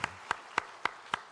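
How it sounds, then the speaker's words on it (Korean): People at a Sunday church service clap in unison, five crisp, evenly spaced claps that ring out in a steady rhythm, moderately loud, with no speech over them. "우리 박수 한번 합시다. 박수."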